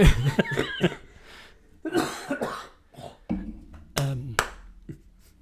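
A series of harsh, hacking coughs in bursts, fairly close and loud, with short pauses between fits.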